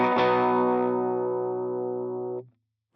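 A sustained electric guitar chord played through a subtle compression effect, picked once and ringing evenly with a slow, smooth fade before being cut off sharply after about two and a half seconds.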